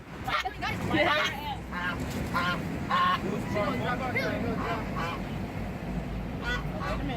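A flock of geese honking repeatedly and close by, overlapping calls over a busy outdoor murmur of people talking in the background.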